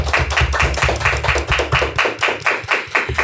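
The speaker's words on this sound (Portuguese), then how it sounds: "Uma salva de palmas." A short round of applause rings out in an interview setting, rapid close hand claps in quick rhythmic bursts from a few people, with no talking over them.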